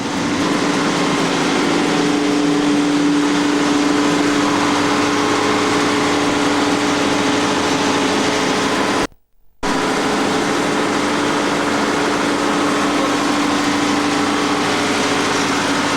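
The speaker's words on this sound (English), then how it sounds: "This is a generator." A loud, steady mechanical roar of a ship's generator running in the engine room, broken once by a split-second cut before resuming unchanged.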